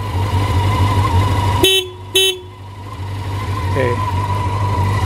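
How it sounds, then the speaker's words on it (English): Two short horn blasts from a 1987 Honda CBR600F Hurricane motorcycle, each about a fifth of a second, sounding loud and close over a steady idling engine hum. "horn."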